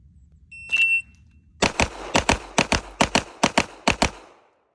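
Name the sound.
shot timer beep at shooting drill start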